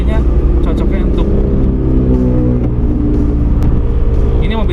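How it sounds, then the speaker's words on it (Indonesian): A Toyota Mark II with a four-speed automatic cruises along, its engine humming steadily and loud throughout with a smooth drone and a slight rise in pitch near the end, while someone talks over it. "Inilah Toyota Mark II, dibuatnya tuh buat yang kayak gini, cruising."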